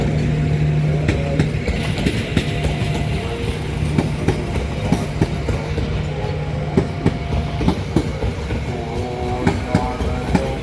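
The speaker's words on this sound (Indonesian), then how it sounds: "Mau masuk ke stasiun Perujakan kereta api Bengawan." Bengawan economy passenger train pulling into Perujakan station, a loud continuous rumble with steady rhythmic clickety-clack of wheels over rail joints and a brief horn tone near the start, close and dominant throughout.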